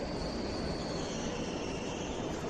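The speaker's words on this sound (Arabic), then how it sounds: "في المحطه ديال القطار اكدال، رباط اكدال" Train rolling through Rabat Agdal railway station in Morocco: a loud, steady, close rumble of rail cars with a thin wheel squeal on top, continuous throughout with no talking.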